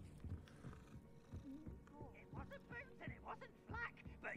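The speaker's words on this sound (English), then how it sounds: "I'm so glad you could pet the cats." Cat purring while being petted in the Hogwarts Legacy video game, a soft rumbling purr with small chirpy mews, quiet and close, under gentle game ambience.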